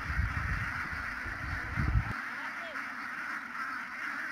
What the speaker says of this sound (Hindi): बत्तख हैं और ये सब अंडा दे रही हैं